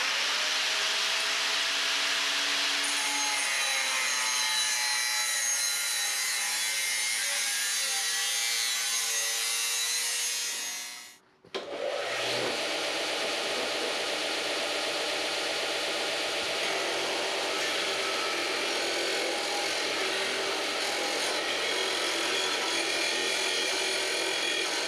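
A saw cuts through a Jeep exhaust pipe with steady, gritty rasping, a brief pause near the middle, then continuous cutting again, loud and close with no voices.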